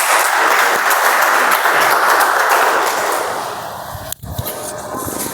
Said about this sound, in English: let's give a round of applause for Toastmaster Arvindan